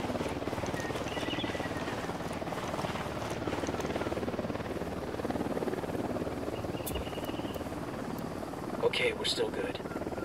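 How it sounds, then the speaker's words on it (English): Helicopter rotor drone in the Ghost Recon: Wildlands video game, a continuous low throbbing rumble under the action while someone speaks briefly, with a few sharper game sounds near the end. "Choppers have riled them up."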